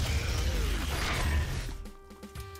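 A door mechanism opening in the VR game Doom VFR gives a grinding mechanical creak and whoosh, followed by a sustained tonal hum as it settles.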